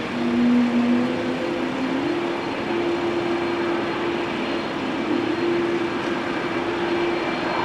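Embraer E2 jet at rainy Amsterdam Schiphol Airport, a steady loud engine roar with a sustained droning tone throughout, no talking.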